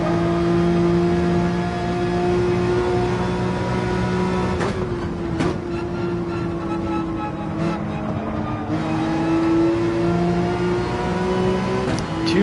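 A Gran Turismo 7 race car engine revs and whines steadily near the limit of the track, the tone holding high with small shifts and a few brief clicks, loud and continuous.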